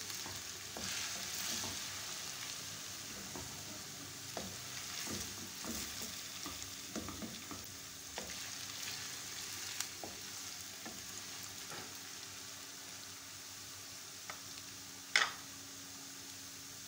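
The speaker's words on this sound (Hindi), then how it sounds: "जब हमारे आलू थोड़े से फ्राई होना शुरू हो जाएंगे" Potatoes fry in a pan for masala dum aloo, giving a steady, even sizzle with light scraping stirs, plus a sharp metallic tap near the end; no talking.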